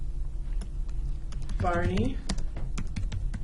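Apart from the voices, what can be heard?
typing on a computer keyboard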